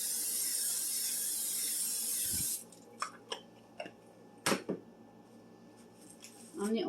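Cooking spray is misted onto a tuna and mozzarella quesadilla in a home kitchen: a loud, steady, airy hiss lasting about two and a half seconds, then stopping, followed by a few soft clicks and handling noises.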